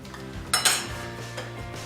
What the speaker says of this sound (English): So let me grab a couple of plates.